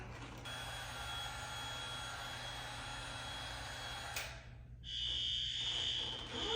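Fire alarm horns sound in a middle school crawlspace during an alarm test, a steady droning tone that runs unbroken for about four seconds, cuts off abruptly, then returns as a high piercing tone.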